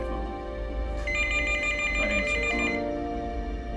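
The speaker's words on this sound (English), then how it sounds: "But at that instant, the phone rang." A telephone rings with a bright electronic warble, tonal chirps sustained for several seconds at close range, loud and alone with no talk over it.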